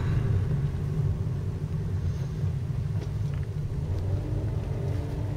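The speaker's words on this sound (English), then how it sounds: "Stuck in traffic again." A car sits stuck in slow road traffic on the way to the Southampton ferry, giving a steady low cabin rumble of idling engine and road noise, close and unbroken, with no talking.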